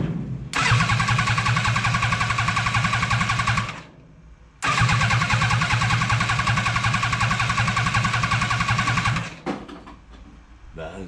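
A Renault 4L petrol engine cranks and catches, running loud and close with a steady rough idle, cuts out briefly, then fires again and runs before dropping off; a voice speaks near the start.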